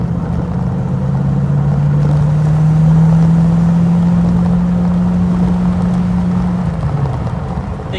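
A V8 engine drones steadily inside a car cruising along roads into the Derbyshire Peak District, with a low sustained tone that rises slightly in pitch, holds, then drops away near the end.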